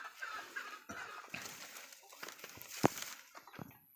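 Young turkey chicks on a farm, chirping and peeping in scattered bursts close by, with soft rustling and a sharp click among the calls.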